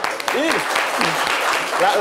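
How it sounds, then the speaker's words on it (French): Audience applause for a woman guest at a French-language talk show, steady clapping filling the room with voices talking over it throughout. "Applaudissez dame."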